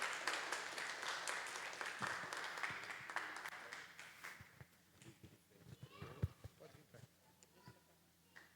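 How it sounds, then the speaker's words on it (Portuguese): Congregation applause at a church wedding ceremony, a dense broadband patter for the first few seconds that thins and fades into scattered claps and quieter room sound, with some voices mixed in. "pode aplaudir ao Senhor"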